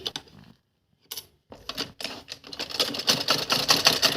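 Sewing machine stitching a cutwork design along the bottom of a kurti, close and loud, starting in short bursts with pauses, then running as a fast continuous mechanical rattle.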